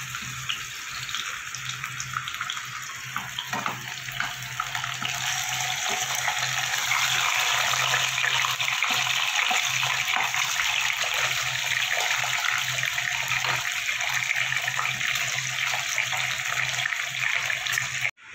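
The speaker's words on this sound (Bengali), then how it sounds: "এবার আমি মাছের মাথাগুলো ভেজে নেব।" Fish heads fry in hot oil for a rohu curry, a steady, loud hiss of sizzling with a faint low hum underneath, continuous until an abrupt stop at the end.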